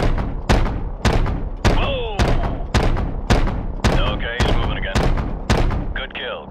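Heavy AC-130 gunship cannon fire in Call of Duty: Modern Warfare Remastered, about ten loud booming shots at a steady roughly half-second rhythm, with radio-style chatter and whooshing effects between blasts.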